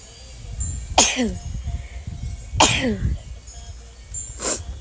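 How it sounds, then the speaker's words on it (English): Three sharp sneezes burst out nearby, spaced a second or two apart, with quiet breathing and background noise between them. "I'm going to sneeze"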